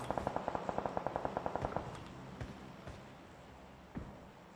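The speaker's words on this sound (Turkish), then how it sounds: "Uzaktan mermi geliyor da sağdan geliyor" Gunfire in PUBG Mobile, a steady rapid string of about fifteen evenly spaced shots at moderate distance, followed by a few isolated fainter reports.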